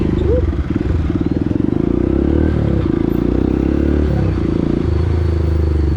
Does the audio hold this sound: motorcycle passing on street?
yes